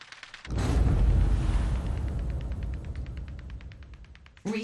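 Video game gunfire in a free-for-all match erupts as a loud, dense, booming burst that holds for several seconds before fading, with a second heavy burst starting at the end.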